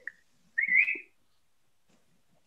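A person gives one short, bright whistle, clear against near-silence, with a few faint clicks around it.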